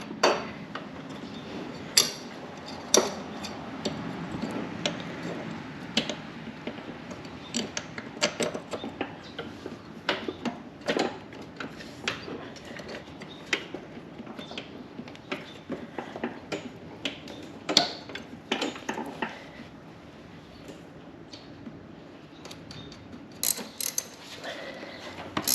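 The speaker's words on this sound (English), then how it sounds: "now I'll put the pulley back on, and this is keyed" A pulley is fitted back onto the keyed shaft of a John Deere lawnmower during a shift cable repair, with scattered close metallic clicks, taps and scrapes of parts and tools against a quiet background.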